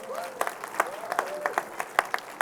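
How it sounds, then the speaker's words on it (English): Small audience clapping scattered across the stretch, individual claps standing out in bursts, with a voice talking faintly over the applause during a professional HR event session. "we have to give a huge applause for Cole and Audrey today"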